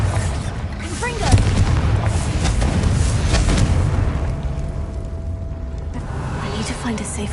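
Confringo fire spells from Hogwarts Legacy explode as repeated booming bursts, layered over a dense, continuous bed of game effects and rumble.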